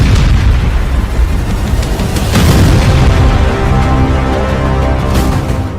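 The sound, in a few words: serial blasts at weapons depot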